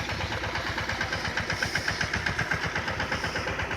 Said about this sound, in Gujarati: ટ્રેક્ટર લેવાનું છે રિવર્સ